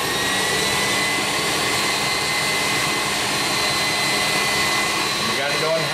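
An electric mixer runs on high, beating heavy whipping cream into butter in a jar covered with a tea towel, giving a steady loud whirring drone without a break.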